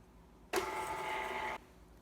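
A mixer creams butter and brown sugar together in one loud, steady burst of motor whir that lasts about a second and then cuts off, with quiet room tone before and after.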